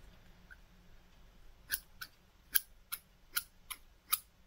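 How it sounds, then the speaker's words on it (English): Scissors snip several times in quick succession, crisp metallic clicks spaced irregularly in a quiet room. "Let's check out these scissors quickly."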